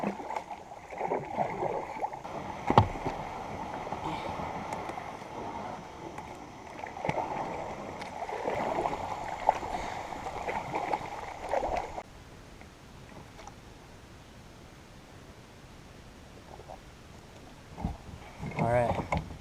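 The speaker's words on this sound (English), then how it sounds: "That was a 10-minute vigorous paddle to get here." A kayak is paddled on a lake with soft, irregular water swishes and splashes close by, then the strokes fade into quieter gurgling and a few faint knocks.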